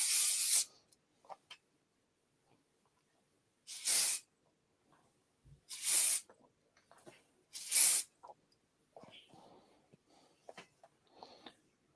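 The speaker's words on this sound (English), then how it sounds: "Bit of hairspray on this fringe just to hold her out of the way. I've got industrial kind of hairspray here." Industrial-strength hairspray hisses from an aerosol can onto a fringe in a salon, in three or four short, close bursts separated by quiet pauses with faint handling noises.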